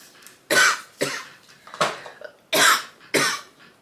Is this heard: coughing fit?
yes